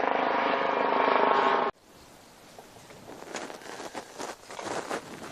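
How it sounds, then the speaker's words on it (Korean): A helicopter flies past a fishing spot on an autumn day of crucian carp fishing. Its loud, steady rotor roar fills the first two seconds, then cuts off abruptly, leaving quiet outdoor ambience with faint rustling. "이거 헬기가 왜 지나가고 그런 난리야."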